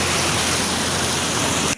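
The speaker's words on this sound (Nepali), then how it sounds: "कति धेरै बाढी आएको हाम्रो त्रियुगा खोलामा" The flooded Triyuga river rushes past, a loud dense roar of churning water filling the whole short stretch before cutting off abruptly.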